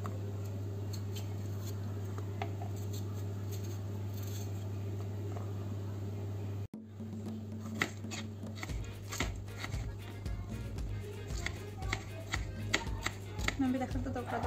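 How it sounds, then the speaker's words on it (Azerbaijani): A knife chops tomatoes on a cutting board, with irregular close taps and clicks starting partway through after a steady low hum, and a voice talks quietly in the background. "Birinci pomidorları doğrayıb üzerine düzürəm"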